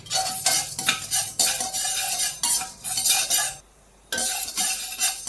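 Chana dal and urad dal roasting in a pan, stirred with a spoon: steady scraping and rattling of dry lentils against metal with brief pauses, close and fairly loud, no voices.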